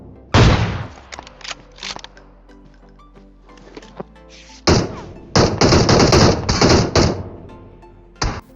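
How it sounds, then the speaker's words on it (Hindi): Gunfire in the mobile shooter PUBG Mobile (BGMI): a single sharp shot, then scattered lighter taps, followed by dense bursts of rapid automatic fire and a final isolated shot, loud and close. "लेकिन साइड से भी गोली चलनी चालू हो जाती है।"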